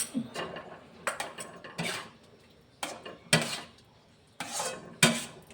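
Suji halwa being stirred in a pan after ghee is added, a spoon scraping and clinking against the metal in irregular strokes, fairly quiet and close.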